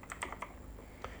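Quick bursts of keystrokes on a computer keyboard as a TypeScript install command is typed, a few close, crisp clicks followed by a short pause and one more tap, quiet and alone.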